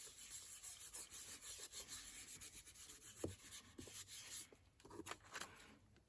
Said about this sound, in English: just give that a little bit of a rub, and now that foiling is coming back to life